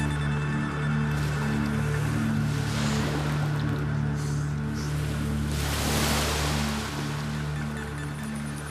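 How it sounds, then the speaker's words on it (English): Big programmed waves crash against a weighted model of Noah's Ark in a wave tank, a steady rushing wash of water with a surging swell midway, over a constant low machinery hum. "This time, he's programmed in even bigger waves."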